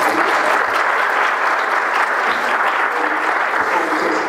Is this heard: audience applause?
yes